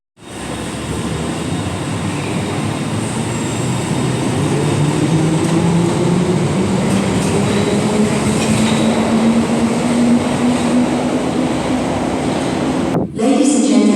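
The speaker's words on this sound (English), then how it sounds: "Getting on a Bakerloo line train now." London Underground Bakerloo line train running steadily, a loud continuous rumble of wheels and motors with a rising whine, cut off abruptly near the end.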